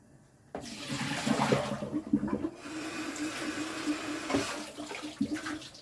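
Radish greens rinsed under a running kitchen sink tap, a steady loud rush of water with splashing surges as the leaves are moved through the stream, briefly easing then resuming.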